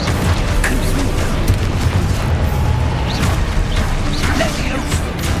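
The Confringo fire spell in the game Hogwarts Legacy sets off a dense, continuous rumble of booming blasts and crashing impacts, loud and close throughout, with faint crackling bursts layered over it.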